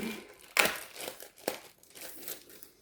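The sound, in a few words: unwrapping a plastic packaging bag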